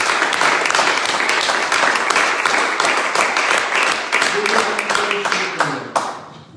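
A church congregation at a Sunday service applauds, a dense, loud wash of hand clapping that holds steady for several seconds before thinning out, with a voice speaking over it.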